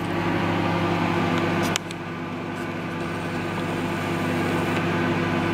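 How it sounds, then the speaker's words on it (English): A microwave oven runs steadily, heating a vegetable meal prep, with a constant loud hum and whir throughout and a small click or shift partway through. "So I'm just going to put this all in the microwave now,"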